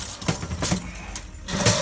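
A bunch of car keys, including Hyundai and Mazda keys, jingles in a few quick metallic clinks and rattles close by, handled over a key storage box.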